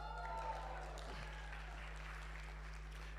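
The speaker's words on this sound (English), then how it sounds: "Yes, that's an applause right there." Faint audience applause at a personal-branding talk, a soft, even patter of clapping heard at a distance beneath a steady low hum.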